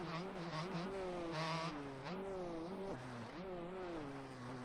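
A Husqvarna 250 two-stroke motocross bike in the game MX Bikes revs with a raspy, rising and falling engine whine, shifting pitch through gear changes, loud and continuous.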